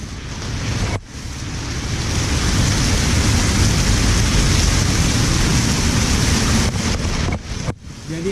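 Heavy rain falls outdoors while a Honda CB150R motorbike is being washed, a loud, close, unbroken hiss with brief dips near the start and end.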